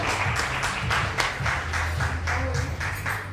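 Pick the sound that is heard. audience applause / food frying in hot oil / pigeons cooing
audience applause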